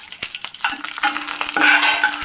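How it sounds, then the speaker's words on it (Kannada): Mustard seeds and curry leaves crackle and sizzle in hot oil, close up, with sharp pops and a spoon stirring now and then. "ಸಾಸಿವೆ ಸಿಟ್ಲಾದ ನಂತರ ಸ್ವಲ್ಪ ಕರಿಬೇವು ಸೂರಿಸ್ಕೊಟ್ಟಿದ್ದೀನಿ"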